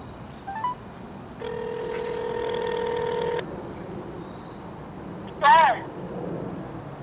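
Telephone keypad tones, a sustained steady tone lasting about two seconds and then a brief warbling electronic beep, heard close in a quiet room.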